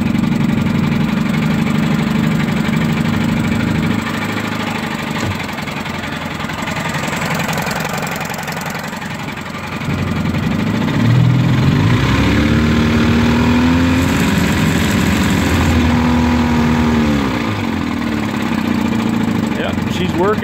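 A 1954 Evinrude 15hp Super Fastwin outboard motor runs in reverse after repair, a loud, steady, knocking two-stroke drone that rises in pitch and power about halfway through.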